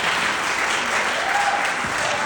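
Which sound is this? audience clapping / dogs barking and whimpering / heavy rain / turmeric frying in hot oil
audience clapping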